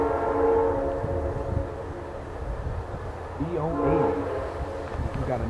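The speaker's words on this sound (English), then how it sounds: "Canadian horn? Yep, Canadian tune. That's a K5L and not a K5LA." Amtrak P080 locomotive on the northbound Carolinian sounds a Canadian-tuned K5L horn, a sustained chord that swells and fades over the rumble of the passing train, with someone talking over it.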